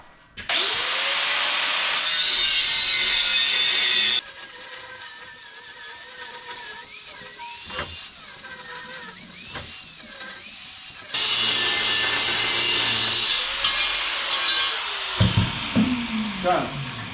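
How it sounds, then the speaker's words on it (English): Angle grinder cutting the metal valve protection collar off a propane tank, a loud continuous high whine with shifting pitch as the disc bites, pausing briefly midway before resuming, then trailing off into clatter. "Start with a grinder"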